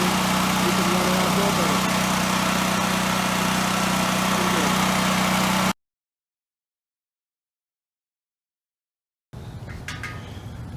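A Westinghouse 7500W generator engine runs on gasoline with a loud, steady, droning hum close by, then cuts to silence before faint handling noises and a quieter background resume.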